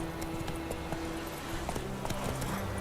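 Roach, a horse in The Witcher 3 video game, gallops with a steady run of hoofbeats over a constant low hum of game ambience, heard alone without talk.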